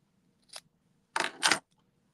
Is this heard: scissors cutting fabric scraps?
yes